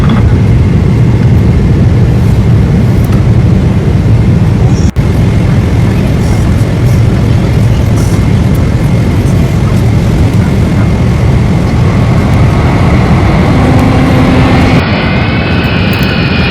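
Loud, continuous roar of jet engines and rushing air inside an airplane cabin on final approach and landing, steady throughout with a sharp thump partway and a shifting engine tone near the end.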